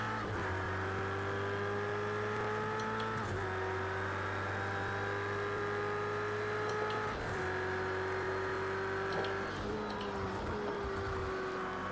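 Ferrari 488 GT3 race car engine in Project Cars 2 at Silverstone, a loud, steady droning roar held at high revs with two brief dips as gears shift, no voices.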